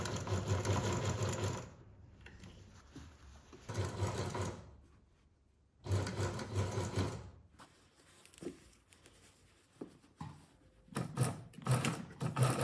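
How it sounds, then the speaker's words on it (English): Sewing machine stitching a ruffled collar onto a blouse neckline, running in several bursts of fast rhythmic whirring separated by pauses, close and clear, with no talk. "Pin the collar right sides together outer side to the neckline and sew."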